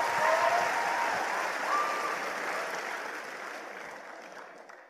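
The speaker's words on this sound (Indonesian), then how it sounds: "Tolong berikan tepuk tangan." Audience applause at a community talk in Indonesia, a steady wash of many hands clapping that gradually fades out over several seconds with no voices on top.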